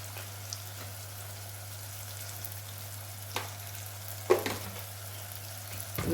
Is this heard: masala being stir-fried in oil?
yes